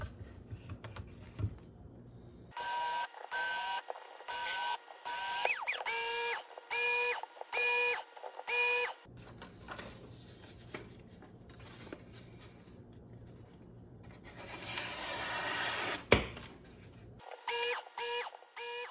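A slicing knife is sharpened in a run of short, rhythmic buzzing strokes with a tonal whine, followed by quieter scraping and a few more quick passes near the end, close and moderately loud.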